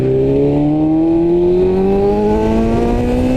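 A BMW S1000RR sport motorcycle in race mode revs and accelerates hard, its engine pitch climbing steadily in a loud, continuous, close-up wail with no voices.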